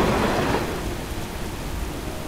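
Stormy rain with thunder in a video game, set on a ship caught at sea, fills the clip as a steady broadband wash that is heavier at the start and settles into a constant downpour with no voices.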